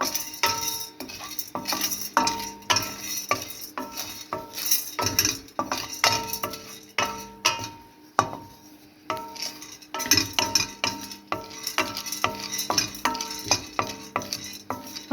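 Chana dal stirred while dry-roasting in a pan at home, with a continuous scraping and rattling of spoon on metal, steady close clinks and shuffles of dry lentils, briefly pausing midway before resuming.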